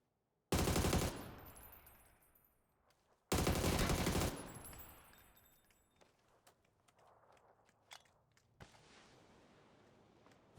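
Gunfire in the video game PUBG during an esports scrim: two loud bursts of rapid automatic fire with decaying echo, followed by scattered fainter shots and clicks.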